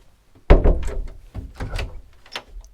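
Wardrobe door on a 2004 Cara Marine 18 metre yacht, a single close wooden thunk as it opens, followed by someone talking.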